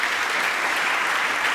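Brief, dense applause from an evening talk audience welcoming a speaker, a continuous wash of clapping at moderate distance with no standout claps.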